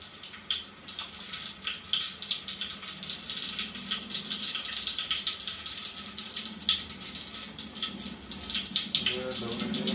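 Mung beans get rinsed in water in a home kitchen, a continuous splashing and trickling wash close by with small swishes and drips throughout, steady and moderately loud.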